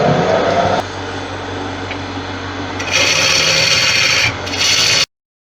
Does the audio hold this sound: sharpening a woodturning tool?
yes